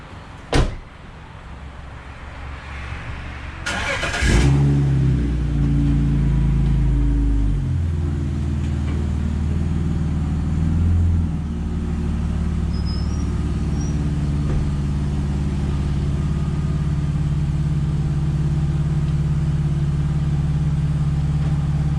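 A BMW 330i engine idles and rumbles steadily up close for a long stretch after a door thunks shut and the motor starts, its low drone holding as the car backs up.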